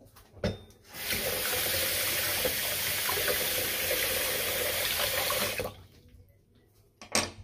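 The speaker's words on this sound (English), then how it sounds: "Let me rinse my face" Tap water runs in a steady loud rush into a sink for about five seconds while a face is rinsed, with brief splashes before and after and no talk.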